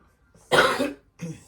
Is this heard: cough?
yes